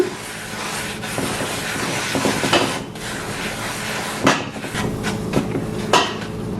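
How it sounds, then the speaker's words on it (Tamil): An appam pan being seasoned over medium heat is rubbed with a cloth bundle, giving scraping friction and several sharp metallic knocks and clanks of the pan, irregular and close. "ஒவ்வொரு ரெண்டு நிமிஷத்துக்கு ஒருக்கா இதே மாதிரி தேய்ச்சி தேய்ச்சி வறுத்தெடுப்போம்"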